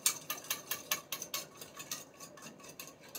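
Repeated clinking and scraping of a utensil mixing a three-bean salad with fresh orange or sweet lime juice, quick rhythmic strokes close up, loud at first then softer.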